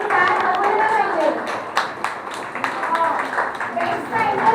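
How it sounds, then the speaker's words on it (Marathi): Applause at a fashion show for a contestant walking the stage, with steady clapping and scattered sharp hand claps running throughout beneath a loud voice speaking over the crowd. "कंटेस्टंट नंबर 6 एकदा जोरदार टाळ्या झाल्या पाहिजे"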